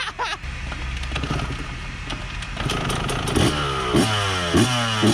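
A 125cc motorcycle is kick-started, catching and idling before being revved through rising and falling engine sweeps, close and loud with clattery mechanical noise.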